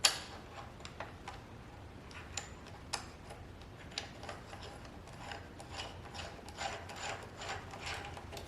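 Bolts on a rear brake kit for a Honda CRF110 dirt bike are tightened with a small 5 mm Allen wrench, producing faint, close ticks, scrapes and rubbing clicks in an irregular run over quiet background.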